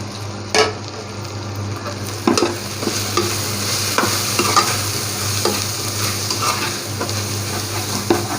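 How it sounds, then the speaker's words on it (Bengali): Spiced beef sizzles in a lightly oiled pan as a spoon stirs it, with scraping strokes at irregular intervals over a steady, close frying hiss; no voices. "তো তাই এটা একটু নাড়তে হবে, নাহলে লেগে যেতে পারে।"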